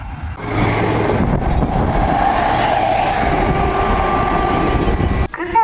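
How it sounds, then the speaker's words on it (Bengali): A BCM track machine rolls across the Nasipur rail bridge, a loud, steady rumble and grinding of rail wheels close by that holds throughout, ending with a brief clatter. "ব্রিজ পার করে আসছে বিসিএম ট্র্যাক মেশিন"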